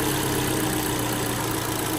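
A Kia Soul 2.0 engine idles while warming up after its cylinder head was reassembled, giving an even, constant mechanical hum and drone with no talking over it.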